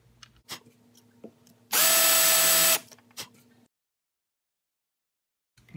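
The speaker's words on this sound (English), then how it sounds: "And now I'll countersink the hole." Drill countersinking a hole in wood, a single loud whirring burst lasting about a second amid faint handling clicks, then silence.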